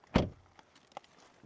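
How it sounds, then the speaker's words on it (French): A 2025 Volvo XC60 car door shuts with one solid, close thud, followed by a few faint clicks and light handling noises. "Rien de spécial, les sons des portes"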